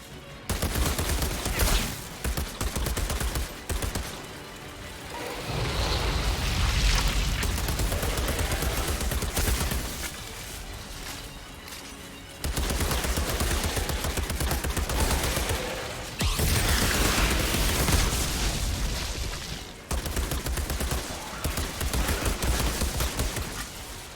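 Repeated bursts of heavy gunfire from a Valheim shotgun, loud volleys of blasts separated by short gaps of quieter game sound, with no talk.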